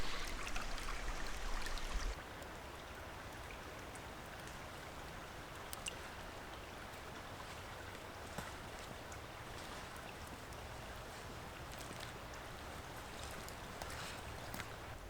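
A Norwegian creek flows in a steady, even rush of water, loud and close, with a brief louder burst at the start before the stream settles into a constant wash.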